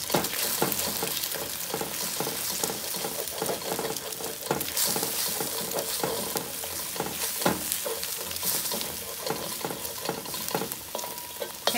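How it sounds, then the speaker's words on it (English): An egg scrambling in about a teaspoon of hot oil in a wok for Pad Thai gives continuous loud sizzling, with stirring scrapes running through it and no voices. "I'm going to add an egg. And I'm going to scramble my eggs."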